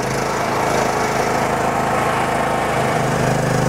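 A Hydrovoyager water maker runs with a steady, loud motorized drone and hum, continuous and close, with no break in the sound.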